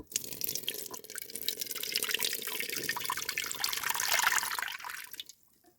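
Water drains from jars of cucumbers, pouring and splashing steadily for several seconds, a continuous gushing that swells slightly before cutting off abruptly near the end.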